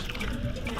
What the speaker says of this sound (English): we added water to the wasawasa, okay, to wash it after it's been cooled down